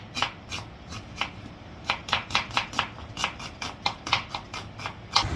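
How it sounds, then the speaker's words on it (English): A knife slicing onions on a cutting board, with a steady run of crisp, evenly spaced chopping strikes close up, about three per second, and no talking. "I love slicing onions."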